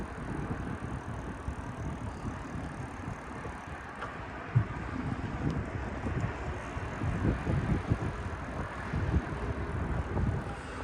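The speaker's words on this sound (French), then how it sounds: "ce matin ça souffle. Puis je roule contre le sens du vent là." Headwind buffeting a microphone while riding a bicycle, a low, gusty rumble that roars steadily throughout and swells in stronger bursts, with no talking.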